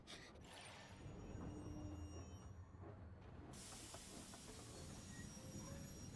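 A train running in the video game Genshin Impact, heard as a steady, loud rolling rumble with an airy hiss throughout and no voices.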